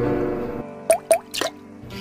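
Rain water falls in three separate drips, each a short, clear plop landing close by, after a low hum cuts out.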